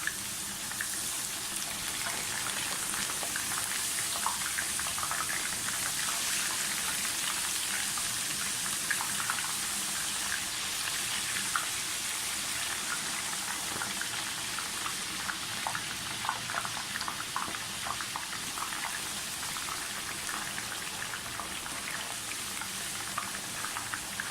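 Potato chips frying in hot oil on a medium flame, a steady dense bubbling sizzle that runs without pause from start to finish at close range, with no talk.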